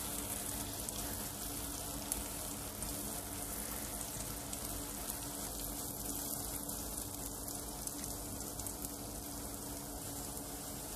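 Carrots sauté in a small cube of butter with a drop of oil, giving off a steady, dense sizzle that runs unchanged and fairly quiet for the whole clip.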